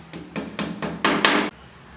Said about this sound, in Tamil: இதை இப்படி வச்சு சுத்தியல் வச்சு அதை அடித்து உள்ளே மட்டமாக இறுக்கி விட்ருக்கேன்